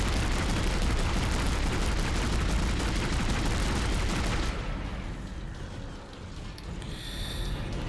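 Dense gunfire in the sci-fi horror video game Dead Space, a loud continuous stream of shots and blasts that eases off into a quieter rumble near the end.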